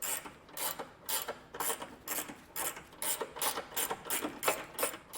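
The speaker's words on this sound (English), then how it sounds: "We'll snug down the factory bolts first. We'll come in with our 18 millimeter" An 18 mm socket on a ratchet snugs down factory bolts on a 2022 Jeep Wrangler 4xe during a Class III trailer hitch install, giving a quiet, close run of rhythmic clicking strokes, about two per second.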